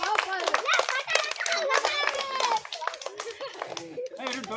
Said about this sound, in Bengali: একটু জোরে হাততালি দাও